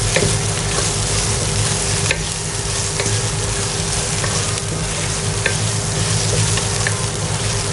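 Green chilies sizzling in a pan of mutton keema with aloo and matar, dhaba style, with a steady loud frying hiss and scattered stirring clicks throughout, no voices.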